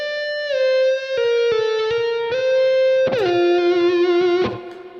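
A distorted electric guitar plays a slow legato lick in D natural minor, sustained singing notes stepping downward with smooth slides and a bend, loud and close with no talking.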